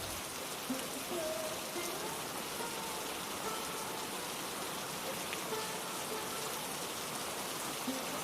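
Steady rain falling in an animated cartoon story, a soft continuous hiss of drops on surfaces, faint and even throughout with no voices.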